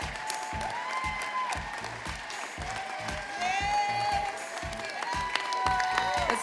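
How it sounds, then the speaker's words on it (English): An audience at the 2018 YWCA Dancing with the Boulder Stars charity dance event applauds with sustained clapping. Moderately loud crowd applause runs throughout, mixed with a rhythmic musical beat. "let's give a big YWCA round of applause for this year's Dancing with the Boulder Stars one more time."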